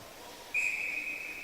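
A referee's whistle at an ice hockey game gives one sharp, steady blast that starts abruptly and holds for nearly a second over faint arena background.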